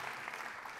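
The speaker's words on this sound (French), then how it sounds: "Oui, on peut l'applaudir, évidemment" Audience applause at an awards event, a brief, fairly soft wash of steady clapping from a crowd.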